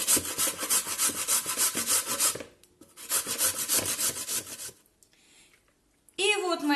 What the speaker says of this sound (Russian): Мы будем натирать на вот такой меленькой терке